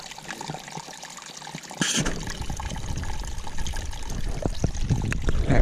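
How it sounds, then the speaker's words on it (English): Stream water trickles off a leaf into a bottle on a winter forest hike, a close, continuous splashing and dribbling that grows louder partway through. "Use a little leaf, get the water to shoot off a little more, make it easier to fill your bottle."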